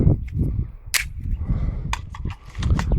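FN Five-seven USG pistol shots at a 6-inch steel plate from about 10 to 15 feet, with two sharp, loud cracks about a second apart and ringing impacts, plus a few fainter taps.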